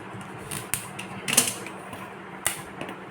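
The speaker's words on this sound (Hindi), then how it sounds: "एक और स्ट्रिप इसी तरह काट लेते हैं।" A strip is cut for a model EMD WDP4/WDG4 locomotive, making a few quiet, sparse clicks and snips close by against a faint background.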